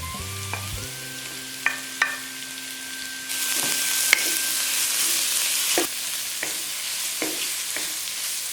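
Carrots stir-fried for cheese kottu hiss in a hot pan, the sizzle starting after a few seconds of brief tones, with sharp, regular clacks of the spatula spaced through the frying.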